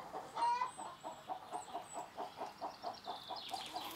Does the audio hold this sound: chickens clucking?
yes